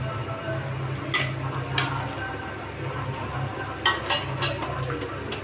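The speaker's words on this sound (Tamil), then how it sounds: "கிளறி விட்டுருங்க." Kurma curry being stirred in a pot, a low simmering bubble underneath with a few sharp clinks of a spoon against the metal rim, spaced irregularly and close by.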